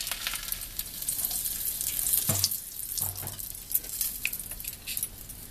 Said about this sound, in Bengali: এখন আমি ফোড়নটা দিয়ে দেবো। এই দেখুন, তেজপাতা দিয়ে দিলাম